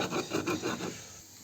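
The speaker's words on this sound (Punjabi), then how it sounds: "ਆਪਣਾ ਧਨੀਆ ਹੁਣ ਪੀਸ ਗਿਆ ਹੁਣ ਥੋੜੀ ਜੀ ਆਪਾਂ ਅਜਵੈਨ ਪਾਵਾਂਗੇ ਇਹਨੂੰ ਵੀ ਆਪਾਂ ਇਸੇ ਤਰ੍ਹਾਂ ਹੀ ਕਰਾਂਗੇ" Ajwain (carom seeds) being ground for kulche chhole masala makes a close, dry rasping rub, repeated in quick rhythmic strokes that fade out after about a second.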